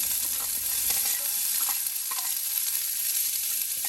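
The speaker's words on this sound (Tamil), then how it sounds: "ஒரு பெரிய வெங்காயம் நான் கட் பண்ணி வச்சுருக்கிறேன், அதையும் வதக்கி எடுத்துடலாம்." A large chopped onion sautéing in a pan for a pearl millet porridge dish, a steady hiss of sizzling oil with a few soft stirring scrapes, close and continuous, no voices.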